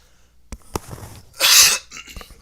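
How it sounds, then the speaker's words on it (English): A single sharp cough, preceded by a few small clicks and breaths, loud and close with no talking. "Sorry, I was holding back that cough for like 2 tricks."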